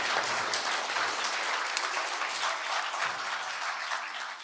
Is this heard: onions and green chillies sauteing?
no